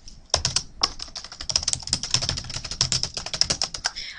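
Rapid typing of a chat message on a computer keyboard, dense, close and steady clicking of keys with brief pauses, heard alone with no voice.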